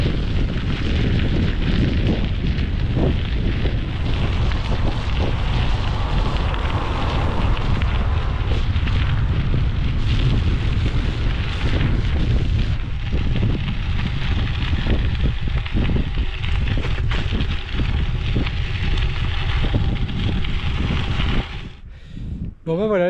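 Strong wind buffets the microphone during a gravel bike ride along the Breton coast near Pléhérel Plage and Pointe du Chevet, a loud continuous roar with gusty surges that drops away briefly near the end.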